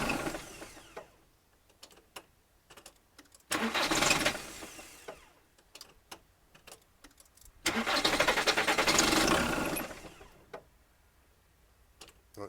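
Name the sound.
car engine cranking after cambelt repair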